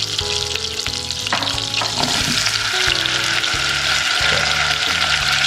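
Berries and sugar cooking in melted butter in a pan for a pancake berry sauce give a close, steady sizzle with stirring scrapes throughout, and no one speaks.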